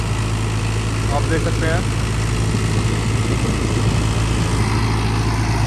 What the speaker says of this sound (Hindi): बड़े प्यार से इस टाइम ट्रैक्टर चल रहा है।